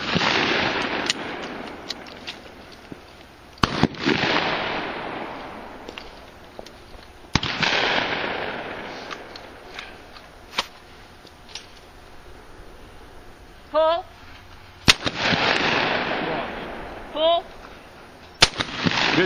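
Skeet shooting, with sharp shotgun blasts at clay targets cracking out several times at irregular intervals, each followed by a decaying rumble, with quiet voices and brief remarks between shots.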